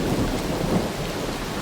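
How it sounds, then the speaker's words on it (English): Thunderstorm with rain in a video game, a dense continuous roar of steady rainfall with deep rumbling thunder underneath, loud and close throughout. "Thunderstorm. This has got great sound."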